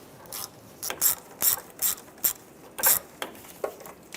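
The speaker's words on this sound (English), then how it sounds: "Now we're going to remove this bolt right here. Use an 8mm socket." An 8 mm socket wrench ratchets out a bolt while replacing the power steering return hose on a 2007-2013 Chevrolet Silverado 1500, producing a close, crisp series of rhythmic clicking strokes with short pauses.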